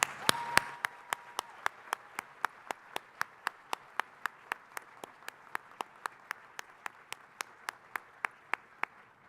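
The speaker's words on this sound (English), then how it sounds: "Can we give him a second round of applause?" A single pair of hands claps in a slow, steady rhythm at a graduation ceremony, about thirty sharp, evenly spaced claps in a quiet room, with faint murmuring at the start.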